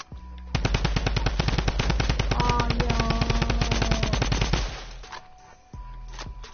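A video-game minigun unleashes a loud, rapid, unbroken stream of shots for about four seconds, then cuts off, followed by faint mechanical clicks and a low hum.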